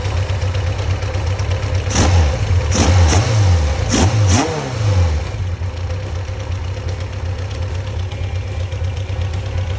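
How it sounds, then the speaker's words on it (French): An engine idles close by during carburetor synchronization, then takes a quick series of sharp throttle blips that rev up and fall back, before settling into a steady, even idle again. "Elle reprend bien ses tours."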